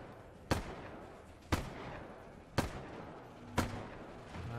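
Four loud, evenly spaced rifle shots from the Resident Evil Resistance video game, each a sharp crack with a short decaying tail, heard alone against a low game ambience.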